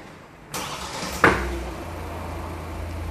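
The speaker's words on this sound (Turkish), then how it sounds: "Çalıştırın arabayı." A Hyundai Tucson's engine starts with a brief starter crank, then settles into a low, steady idle, heard close in a quiet setting and preceded by a soft thud.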